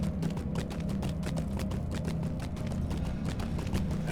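A goat mount running in Lord of the Rings Online: a fast, regular clatter of hoofbeats, close and steady over a low ambient game drone, with no talk.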